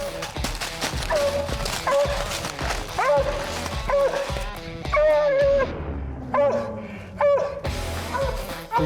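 A coonhound bays and barks repeatedly at a raccoon up a tree, with sharp, rhythmic yelps close by and people talking quietly over the dog in the outdoor night woods.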